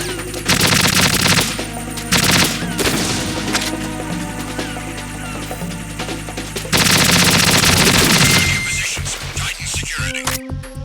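AK rifle gunfire in the Metal Gear Solid 2 video game, loud sustained automatic bursts with short pauses between them, dense and close, ending in a few scattered shots.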